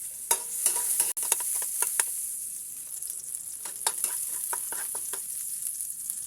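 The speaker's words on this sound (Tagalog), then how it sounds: "nilagay na natin ang bawang at sibuyas. Haluin natin hanggang sa magkulay brown siya" Garlic and onion sauté in hot oil, a steady bright sizzle with a spoon scraping and stirring through it in repeated strokes, close and continuous, no voices.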